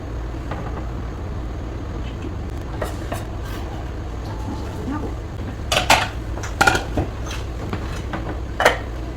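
Rice is served into a bowl for bibimbap in a Korean cooking certification class, with light scattered clinks of utensil against dish and a louder cluster of knocks over a steady room rumble.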